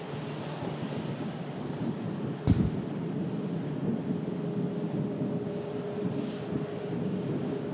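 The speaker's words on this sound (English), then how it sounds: "This aircraft lining up bound for Lanzarote, Jet 2." A Jet2 airliner bound for Lanzarote lines up on the runway at Manchester Airport with its engines running, a steady broad roar held throughout, with a single sharp click or thump midway.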